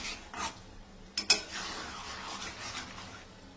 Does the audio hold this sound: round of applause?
no